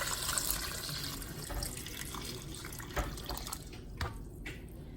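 Water runs steadily from a tap into a pot of potatoes, a continuous splashing hiss with a few brief clinks and knocks near the end.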